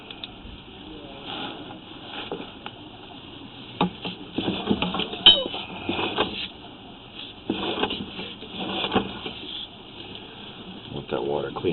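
Water runs through a main sewer line, heard as uneven splashing and gurgling gushes with rattling knocks. Someone talks over it at times.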